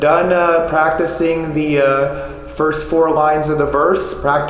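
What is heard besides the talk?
None of the usual background noises is heard.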